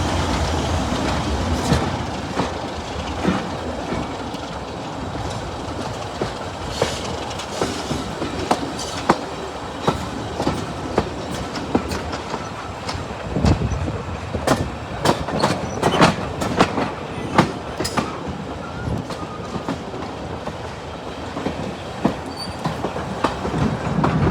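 Diesel locomotive 99004 on the Swanage Railway near Corfe Castle and Norden, rumbling steadily with a clickety-clack of wheels over rail joints and occasional squeals, close and loud throughout.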